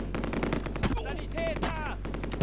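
Rapid bursts of machine-gun fire and gunshots from a Close Combat World War II strategy game, German campaign, crackling steadily through the whole stretch with a brief tonal whine layered in, loud and close.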